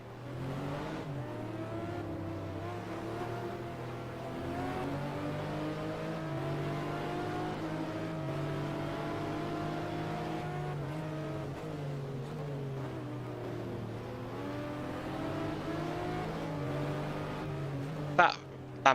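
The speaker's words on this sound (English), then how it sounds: "that Lamborghini behind me, isn't it?" A Lamborghini race car engine in an FIA GT racing video game at the Budapest 500km round, droning steadily and rising and falling in pitch through shifts, with someone talking over it and a brief sharp noise near the end.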